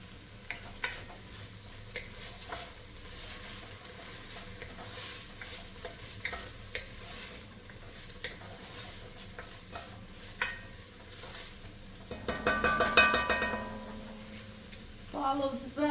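Minced garlic sizzling gently in a soup pot, a quiet steady fry with scattered clicks of a utensil stirring and a brief louder scraping stir near the end.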